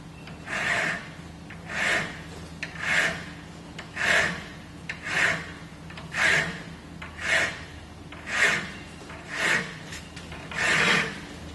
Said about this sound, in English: Make sure you're filing flat that way, so you just do it quite high.